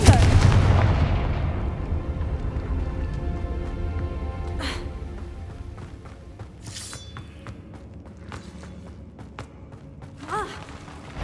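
A Confringo spell in Hogwarts Legacy blasts with a loud, booming impact that rings and decays over several seconds, followed by fainter sharp cracks and magical zaps.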